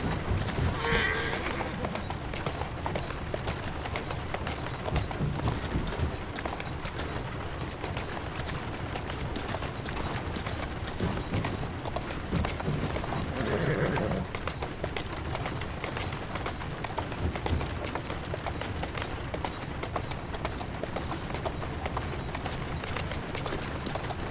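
A horse in the Assassin's Creed Syndicate video game, steady trotting hooves thudding under constant ambient noise, with a short whinny-like burst midway and some background voices.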